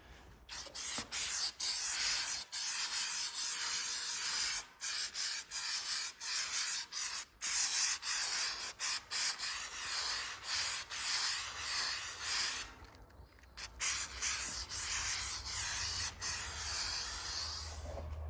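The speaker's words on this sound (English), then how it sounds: "I'm going to spray the underneath here with black asphalt undercoating." Black asphalt undercoating sprayed onto the underside of a John Deere LA165 lawn tractor, a steady hissing spray running almost continuously, close and fairly loud, broken by a few short pauses.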